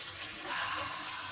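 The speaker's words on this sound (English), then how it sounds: "I'm in the bathtub, and of course, you hear the water." Water sloshing and trickling in a bathtub as someone sits in a bath, a close, steady liquid wash filling the space.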